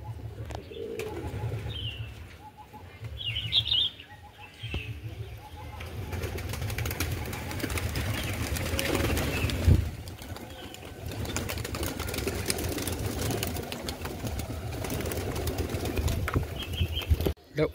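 Old-generation loft pigeons in Ranihati, Jolakanduya, give soft throaty coos with occasional wing flaps and chirps, close by, while someone talks intermittently over them.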